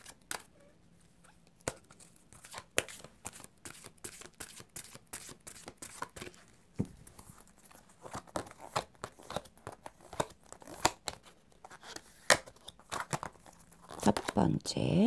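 Angel tarot cards are shuffled and drawn, giving a long run of crisp clicks, riffles and card slaps in uneven bursts, growing busier toward the end, with quiet talk underneath in places.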